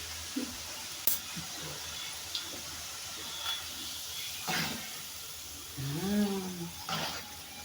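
Potatoes frying in hot oil give off a faint, steady sizzling hiss with a few soft pops, and a brief voice sounds near the end.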